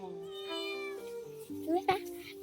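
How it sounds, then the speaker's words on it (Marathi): A house cat gives several drawn-out, rising meows close by. They blend with a voice in the background and are followed by a louder, sharper cry near the end. "किती छान छान मांजर आहे बघा"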